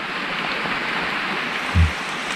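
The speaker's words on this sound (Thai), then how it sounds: "แล้วฝนตกหนักมากเลยตอนนี้ นี่ ทุกคนได้ยินเสียงไหมครับฝนตก" Heavy rain pours steadily in a forest at night, heard from beneath a rock shelter; a constant close wash of drops with one brief low thump near the end, no talking.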